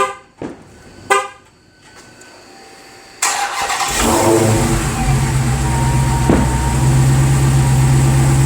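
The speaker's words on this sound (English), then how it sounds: "we'll hit the remote start. First of all, we'll see if the remote start works. And second of all, we'll see if the car fires" A wrecked 2017 Dodge Charger Hellcat, partway through a rebuild, fires up by remote start. A few sharp distant bangs come first, then the engine cranks and catches into a loud, steady, deep-rumbling idle up close.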